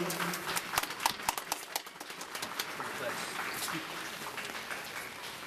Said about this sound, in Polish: na początek brawa dla organizatorów, którzy podjęli się takiego pięknego zadania